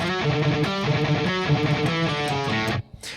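An electric guitar plays a double-time rhythm part, a fast chugging riff of repeated notes that rings loud and steady before stopping abruptly near the end.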